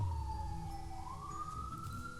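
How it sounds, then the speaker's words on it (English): Ambulance siren passing outside, a faint distant wail slowly falling and then rising again, heard through the walls of a room. "Sorry about the ambulance outside."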